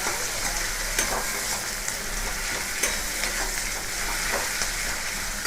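Onions fry in hot oil in a pan while being cooked for a prawn do-pyaza, a constant close sizzle broken by periodic scrapes and clinks of a spatula stirring them.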